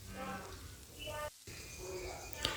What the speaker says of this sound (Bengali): আবারও সবগুলো উপকরণ আমি 2 মিনিটের মতো ভেজে নিব।